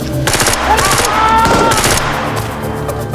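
Rapid machine-gun fire, loud bursts of repeated shots with short pauses between volleys, set in a military combat scene of the Seroja operation, over a steady background score.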